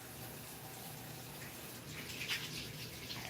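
Tap water running steadily into a sink while hands are washed, a continuous close splashing wash that grows slightly louder with some spattering near the end.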